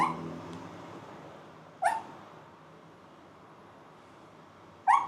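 A small dog resting indoors whimpers twice. The two brief, fairly close cries come about three seconds apart over a low, quiet background.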